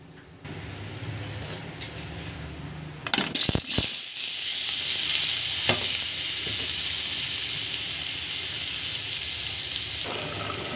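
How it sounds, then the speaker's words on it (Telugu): Potatoes coated in salt and turmeric drop into hot oil with a few sharp clatters, then a loud, steady sizzle and crackle of frying takes over and holds to the end, close and without talk. "ఇప్పుడు ఆయిల్ బాగా వీటెక్కిందండి. ఇప్పుడు మనము ఉప్పు పసుపు కలిపి పెట్టుకున్న ఆలూని ఇందులో వేసుకుందాము."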